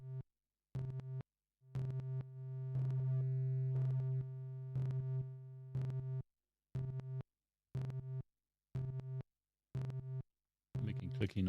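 Eurorack modular synth putting out a rhythmic pattern of short clicky tones and bleeps, with one longer sustained buzzy note early on, fairly quiet and separated by brief silences.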